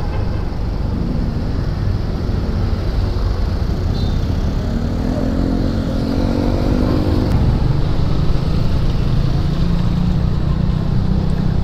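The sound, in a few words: motorcycle engine passing by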